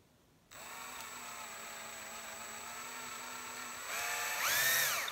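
A small rotary drill bores a hole through a painted mini bottle gourd, its motor whining steadily at close range and rising in pitch near the end as the bit works through the shell.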